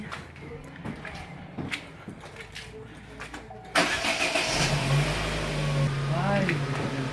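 A car engine starts up partway through and then runs with rising revs as it gets under way, loud and close, after a stretch of quieter background with some voices.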